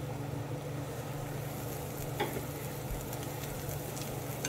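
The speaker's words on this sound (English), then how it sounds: "we are going to put about 2 cups of sliced mushrooms into the pan. I'm going to add a little tiny bit of olive oil" Sliced mushrooms fry in a pan with a little olive oil, a steady, soft sizzle with a low background hum and no talking.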